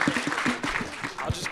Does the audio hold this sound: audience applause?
yes